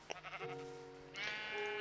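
A sheep bleats twice in a survival-building video game, a short wavering call followed by a longer, louder tonal bleat, clear and close.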